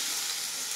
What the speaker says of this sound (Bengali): এবারে আমি এই গলদাটাকে ভাজবো, হালকা ভাজবো।